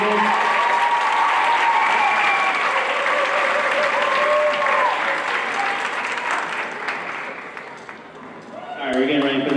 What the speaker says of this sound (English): Another round of applause for the concert band and Tiger Band as well.